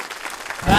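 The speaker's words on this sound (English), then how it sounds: "Another nice round of applause." Brief burst of audience applause for a singer after a song on a variety show stage, scattered claps swelling suddenly louder at the very end of a short moment.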